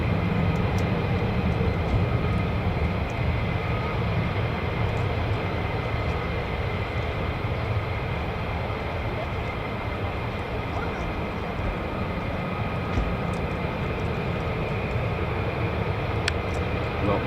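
US Air Force fighter jets of the 494th Fighter Squadron at RAF Lakenheath give off a steady, broad engine roar that holds at a constant level throughout.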